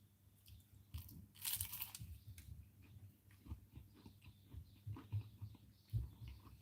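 A crunchy pastry pie being bitten and chewed up close, with a sharp flaky crunch early on followed by quieter irregular chewing and mouth sounds.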